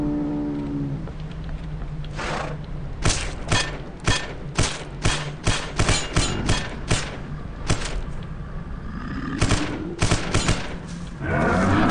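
Gunfire fires in the Vivisector game at a creature, a long series of loud, sharp single shots in an uneven rhythm, close and clear, with only faint background sound between them.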